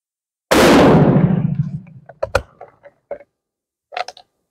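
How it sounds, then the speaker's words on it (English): A single loud rifle shot from a Dutch Mannlicher at a shooting range cracks out and rings down, followed by quieter clicks and metallic handling of the bolt and cartridge case. "Now I'm going to shoot the right target."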